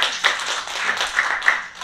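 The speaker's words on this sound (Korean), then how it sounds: "우리 박수 한번 쳐드립시다" A church congregation claps together, a short burst of dense hand clapping with a few sharper claps, fairly close and with no talk over it.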